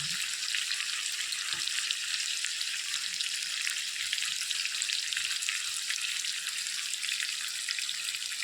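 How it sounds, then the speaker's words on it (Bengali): Mutton with whole garlic cloves sizzles and fries steadily in oil in a kadai, a dense, continuous close-up hiss with faint occasional stirring and no voices. "আরও ভালো মতো কষিয়ে কষিয়ে কড়াইয়ের মধ্যেই রান্না করে নেবো"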